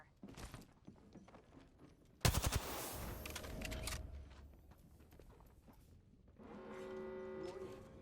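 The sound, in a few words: gunfire in the video game Apex Legends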